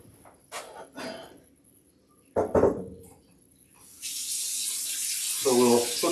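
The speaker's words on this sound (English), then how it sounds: "So we'll put some more water in there." Tap water runs into a cooking pot of pork chops during home meal prep, with bursts of splashing and then a steady, loud rush of filling water.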